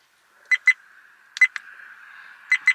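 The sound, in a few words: Viofo dash cam beeping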